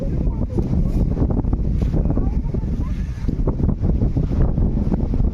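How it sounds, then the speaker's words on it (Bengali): Strong wind buffets the microphone at Rock Garden in Darjeeling, a loud, steady low roar with gusty surges throughout, and voices murmur faintly beneath it. "প্রচন্ড হাওয়া চলছে"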